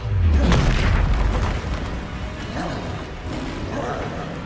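Booming spell blast in the game Hogwarts Legacy, a heavy low-end explosion at the start that rolls into crashing, rumbling debris and fades to a lower steady roar, with a voice briefly under it.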